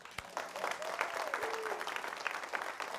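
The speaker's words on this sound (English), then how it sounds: "would you please rise and let us give you a big round of applause" A church congregation at a Sunday service applauds members of a search committee: steady, moderately quiet clapping from a room full of people that carries on for the whole stretch, with a faint voice rising and falling underneath.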